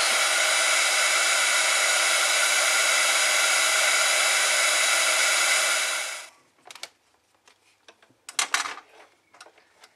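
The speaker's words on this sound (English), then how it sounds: "I'm going to bring in my embossing tool. Looks like this here, heated up tool." A heated embossing tool blowing hot air in a loud, steady whoosh for about six seconds before it cuts off, leaving quiet clicks and light handling sounds.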